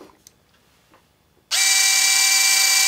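After a few faint taps and handling noises, a Hart 4V cordless screwdriver suddenly starts and runs with a loud, steady high-pitched motor whine, close to the ear.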